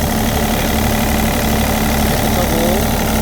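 Close, loud diesel engine of a 3.5-ton mini excavator idling with a steady rumble and hum, a voice speaking briefly underneath.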